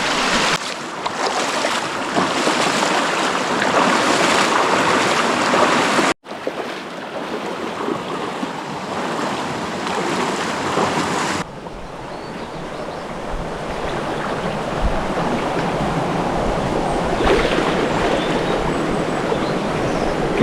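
Rushing water on a hike toward a hidden waterfall roars steadily and loudly up close, a broad continuous wash with wind buffeting the microphone and no speech.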